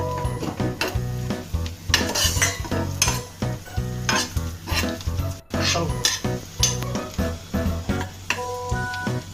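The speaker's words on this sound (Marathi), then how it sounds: "पहिला कांदा घेतलेला आहे, मिरची घेतलेली, कढीपत्ता आणि जिरं आपण हे चांगलं पहिलं भाजून घेतो चांगल्या प्रकारे" Onion, chilli, curry leaves and cumin sizzle and crackle in a pan for a masala omelette, with rhythmic metal spatula strokes scraping and clinking against the pan throughout.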